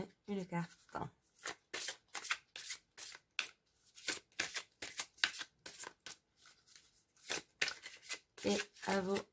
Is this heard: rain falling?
no